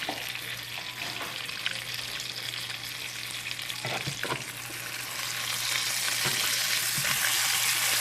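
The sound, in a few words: salmon frying in a pan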